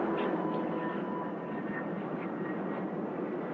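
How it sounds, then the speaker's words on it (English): A Balbo formation of fifteen C-130 Hercules turboprop transports passes overhead at an air show, a steady broad engine roar that stays even and sustained throughout with no voices. "doing their version of formation flying with this Balbo of 15 C-130 Hercules aircraft."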